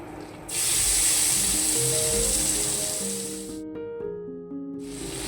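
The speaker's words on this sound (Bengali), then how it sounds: "চিংড়ি মাছটা ভাজা হচ্ছে" Turmeric-rubbed prawns hitting hot oil in a wok: a loud sizzle bursts in, gradually eases, cuts out briefly, then flares up again near the end, close-up, with soft music underneath and no talking.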